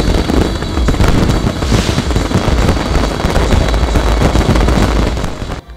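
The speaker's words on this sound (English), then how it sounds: "The evening program was also highlighted with a dramatic fireworks display" A dramatic fireworks display at a Lao National Day evening celebration: dense, continuous crackling bursts and booms rolling loudly and without pause, with no voices.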